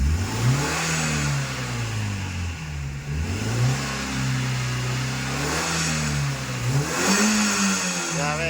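A Suzuki APV engine fitted with a Valvetronik exhaust in standard mode revs up and down repeatedly, a close, throaty drone rising and falling over steady idle.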